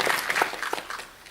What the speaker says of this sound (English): Let's give a big round of applause to all of us.